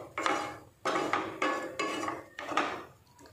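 Dry stingray fish masala (thirukkai karuvadu thokku) being stirred in a pan with a spoon, with water added: a series of five distinct scraping, clattering strokes at a steady rhythm, close and fairly quiet, with no talk.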